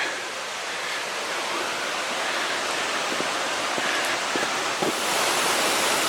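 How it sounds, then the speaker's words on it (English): Steady broadband rush of running water, loud and continuous with no pauses, like a nearby stream or falls heard up close. "the sound of water is getting stronger"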